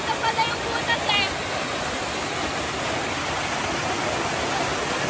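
Waterfall with cold rushing water, a loud continuous roar of falling water up close, with a brief voice near the start.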